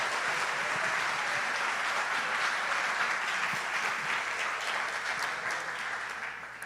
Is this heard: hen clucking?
no